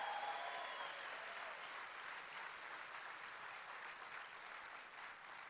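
Sustained applause from a large audience at an event in the Oregon Convention Center, a steady broad wash of clapping lasting throughout at moderate distance, with no voices standing out.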